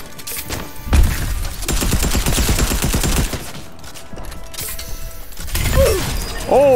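Charge shotgun blasts in a video game, loud heavy bursts with rattling mechanical follow-through, several shots spread across the clip with quieter gaps and some game sound effects between.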